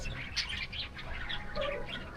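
Faint, scattered bird chirps and tweets over a soft background hiss, a few small calls spread through the moment, beside a swimming pool at an amusement park.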